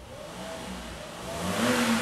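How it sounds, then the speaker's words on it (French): A twin-turbo car engine runs with a rising rev, and a thin high turbo whistle comes in over the mechanical drone as it builds. "Le petit sifflement derrière, c'est le turbo."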